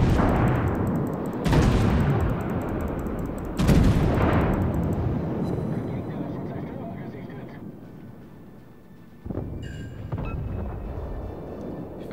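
Heavy warship guns boom in the naval video game World of Warships, two loud blasts with long rumbling decays followed by a later third report, set against a continuous engine-like drone.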